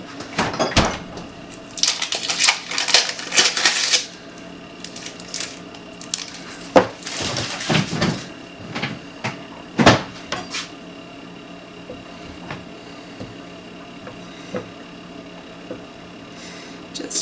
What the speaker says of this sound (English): I'm just going to cut up the butter to show you how I cube it up